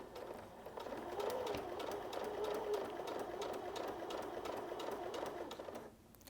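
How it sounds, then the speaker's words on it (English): A sewing machine runs steadily while stitching quilting fabric forward, then backward a few stitches and forward again, a close, continuous mechanical whir that stops abruptly near the end. "So I'm stitching forward, and then I'm gonna stitch backwards a couple stitches. And now I'm gonna sew forward again."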